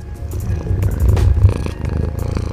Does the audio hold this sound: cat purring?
yes